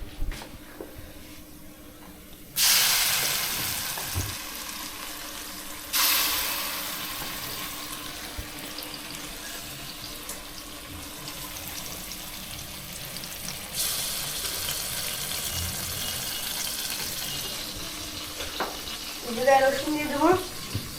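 Onion paste hits hot oil in a pan while cooking a lobster bhuna, producing several sudden loud sizzling bursts that settle into a steady crackling fry under soft background noise.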